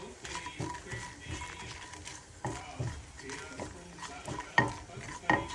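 Potatoes and cumin frying in a pan for Andhra-style aloo bhotra, with close, steady sizzling and the scrape and clatter of stirring throughout, plus a couple of sharper utensil knocks near the end.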